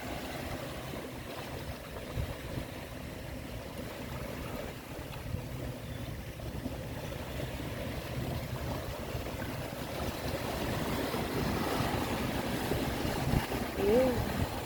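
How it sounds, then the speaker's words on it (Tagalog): Ocean waves at dawn wash steadily onshore, a continuous broadband surf that swells gradually louder toward the end, with no distinct individual crashes and no talking. "yung background sound pa natin is yung hampas ng alon"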